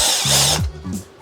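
A hand drill fitted with a chamfer bit chamfers holes in a short whirring burst that spins up, dips in pitch as it bites, then briefly revs again.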